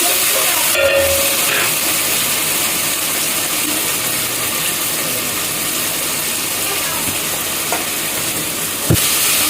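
Turmeric frying in a pan with softened tomatoes for gongura chicken curry gives a steady, close sizzle and hiss that runs throughout, with a few light clinks of a utensil against the pan and one sharp knock near the end.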